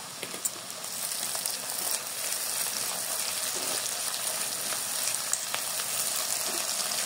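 Garlic, cumin and ginger paste frying in a pan, a continuous crackling sizzle with small wet pops and clicks from stirring, fairly close and steady throughout.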